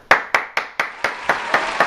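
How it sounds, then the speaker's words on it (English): A studio audience at a satirical late-night comedy show claps for a guest in eight sharp, evenly spaced bursts, close and loud, like rhythmic unison clapping with no talking. "Let's give a round of applause for this guy"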